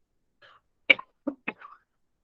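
A few short, sharp coughs in quick succession, close to the microphone, with brief gaps between them and no talking.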